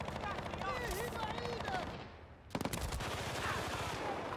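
Rapid automatic gunfire at a machine gunner in the video game Battlefield Bad Company, dense bursts of shots with a brief lull before firing resumes, with in-game voices underneath.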